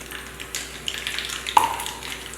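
Mustard seeds crackle and sizzle in a spoonful of hot oil in a pan for chutney to go with wheat dosa, a close, lively frying hiss with scattered pops and a light metallic clink.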